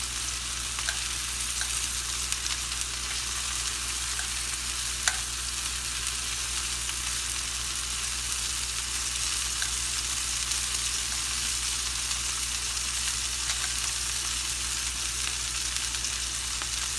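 Steaks cook on a Himalayan salt plate over a stove, giving a loud, continuous crackling sizzle that holds steady throughout with occasional small pops and no talking.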